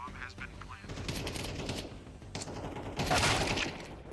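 AK rifle fire from a Counter-Strike 2 match at the Malta National Qualifiers 2024, with bursts of loud gunshots layered over game sounds and an excited caster talking throughout.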